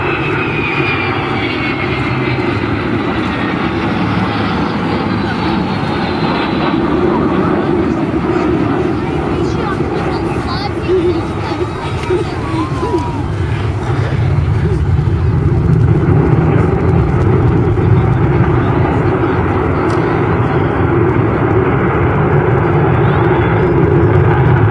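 Avro Vulcan bomber XH558 jet engines roar steadily at the 2009 East Fortune airshow, a loud continuous rumble with a rising whistle early on, sustained for the whole stretch.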